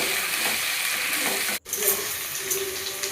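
Urad dal, garlic, ginger, shallots and dried red chillies frying in oil, a loud steady sizzle that cuts out for a moment and then resumes with a hissing crackle.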